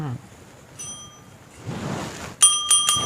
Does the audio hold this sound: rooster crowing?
no